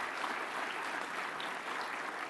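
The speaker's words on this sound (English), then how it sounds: "Let's give them a hand of applause." An audience applauds honorees at a citizenship award ceremony, a steady even wash of clapping from many hands that carries on through the whole moment, moderately distant and unbroken.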